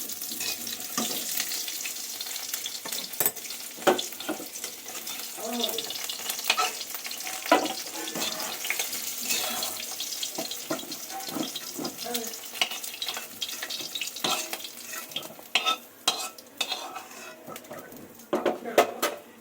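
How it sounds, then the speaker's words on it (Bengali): Vegetable stalks frying in a pan while being stirred, with a steady sizzle broken by scraping and clattering stirs, plus brief running tap water, close and moderately loud throughout. "ডাঁটাগুলো এইভাবে মা ভেজে নেবে"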